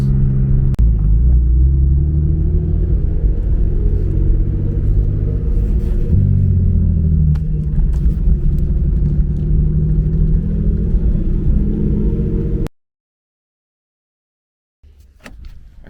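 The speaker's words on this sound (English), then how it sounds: "I'm just staying out of boost, just driving it real calm" A turbocharged BMW E36 cruises gently out of boost, its engine giving a steady, loud low drone with road rumble for about twelve seconds before cutting to silence, followed by a faint brief noise.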